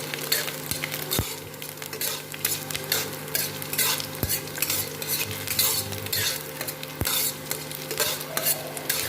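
Garlic cloves fry and sizzle steadily in a pan while a metal utensil stirs them, with sharp scrapes and clinks at intervals.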